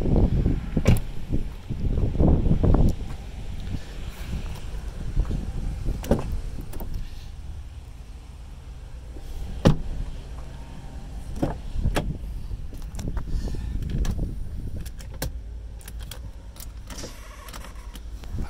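Power seat motor in a 2006 Land Rover LR3 whirring in several short bursts between clicks and interior handling noises, close up in a quiet cabin.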